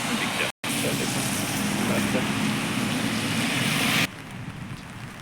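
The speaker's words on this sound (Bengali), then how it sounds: "এটি ঝিমিঝিমি বৃষ্টি হচ্ছে, বেশিও না" Light rain falls on a street in Shizuoka city as a dense, steady hiss close around, with a brief dropout and a quieter stretch near the end, and no talking.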